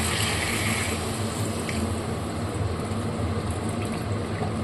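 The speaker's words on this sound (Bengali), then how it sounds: "তো এবার আমি এতে জল অ্যাড করে দেবো।" Water pours into egg curry (dimer dalna) simmering in a pan, making a steady, close, rushing splash that holds evenly throughout with no talking.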